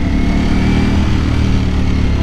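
Ducati V4S motorcycle engine pulling steadily in a low gear, a loud, continuous deep rumble with a dense low-frequency throb that holds even throughout, with no talking over it.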